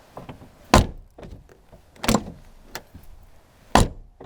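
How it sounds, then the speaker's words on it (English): Three heavy, solid clunks of a 2011 Mini Cooper's door, spaced a second or more apart, each a deep thud with quiet rustling between. "the clunk, that classic old school clunk"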